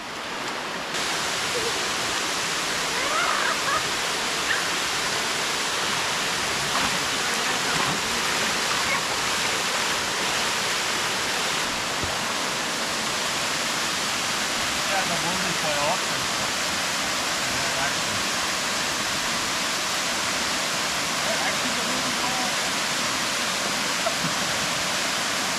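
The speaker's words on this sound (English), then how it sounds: "I'm just gonna walk over to the falls and enjoy the cold water." Cold water pours over a waterfall at night in a steady, dense, broadband rush that fills the whole scene, with occasional faint voices underneath the constant roar.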